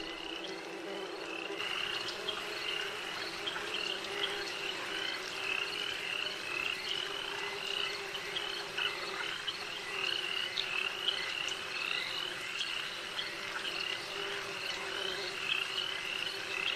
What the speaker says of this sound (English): I was gonna say I thought they sounded more like bees.